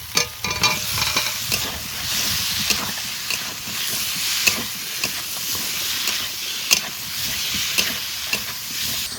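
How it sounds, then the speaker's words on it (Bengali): Fried potato pieces tossed into oily cooked-down spice masala and stirred in a pan, with a steady loud sizzle and hiss broken by repeated scraping stirs throughout. "এবার ভেজে রাখা আলু দিয়ে দেবো।"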